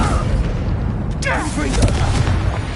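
A Descendo spell slams down in Hogwarts Legacy combat, giving a heavy booming impact with a sweeping whoosh, close and loud, while a voice shouts the spell over it.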